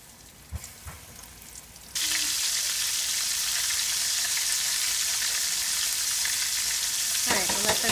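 Battered vegan orange chicken chunks dropped into hot frying oil, a loud, steady sizzle that bursts in suddenly after a few faint kitchen clatters and continues unbroken.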